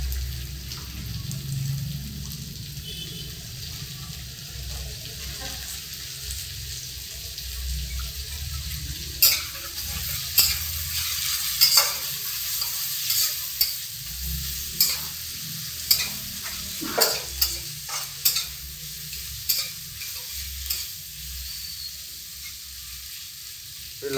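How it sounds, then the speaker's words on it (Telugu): Chicken curry with onions, chilli and tomato sizzles in a pan while a spoon stirs it, soft frying hiss broken by a series of sharp scraping knocks against the pot, close and alone. "తిప్పుతూ ఉంటే బాగా వేపుడు జరగడం జరుగుతుంది."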